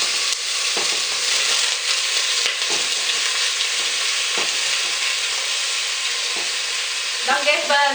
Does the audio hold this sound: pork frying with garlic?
yes